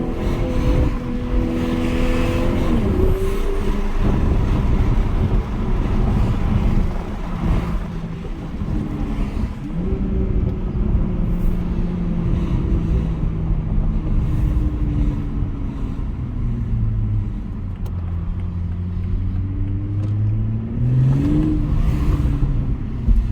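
A 2021 Toyota Supra 3.0 engine heard from inside the car as it accelerates, a loud droning hum that rises and falls in pitch through shifts, steady and close with road noise underneath.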